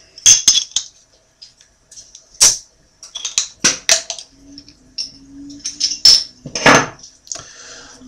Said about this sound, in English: use my shimmy bottle opener